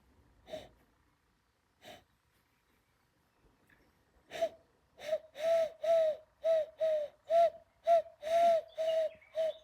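A voice mimics pigeon coos: two isolated calls, then a quick run of about ten rhythmic, breathy hoots, fairly close and loud.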